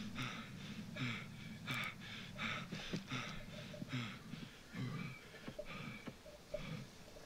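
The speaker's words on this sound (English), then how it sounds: "I really don't want them to have gotten that breathing sound from where I think they got it" A person breathes heavily in a video game, with rhythmic, raspy inhales and exhales repeating about once per second, close and steady throughout.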